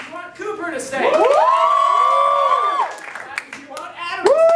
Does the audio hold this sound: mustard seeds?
no